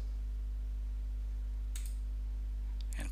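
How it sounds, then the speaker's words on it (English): Two faint, brief mouse clicks on a computer during a Windows 11 install in VirtualBox, set against a steady low electrical hum with no other sound. "now we click install"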